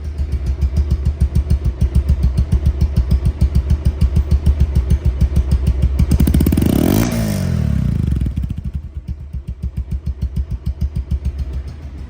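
A 2023/24 Bajaj Pulsar double-disc ABS motorcycle idles close by with a fast, even thumping beat, interrupted by one sharp rev that rises and falls before the steady idle returns.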